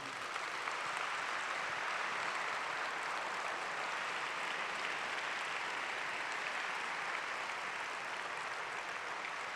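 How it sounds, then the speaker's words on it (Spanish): Sustained applause from a conference audience fills the hall, steady and dense for the whole stretch with no break, a large crowd clapping together at an even, loud level. "merece que ustedes me acompañen a aplaudirlo"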